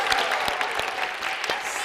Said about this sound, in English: Let's give a round of applause for all of our dancers.